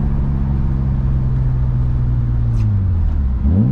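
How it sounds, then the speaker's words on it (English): Engine of a BMW E36 rising and falling through a heel-toe downshift, a loud close mid-pitched drone that swings upward near the end, with no talk. "Try heel toe downshift."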